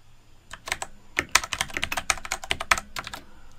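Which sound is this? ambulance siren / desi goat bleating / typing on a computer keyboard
typing on a computer keyboard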